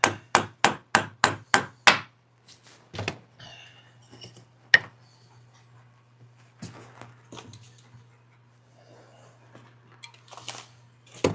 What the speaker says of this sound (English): Put that new mallet to work.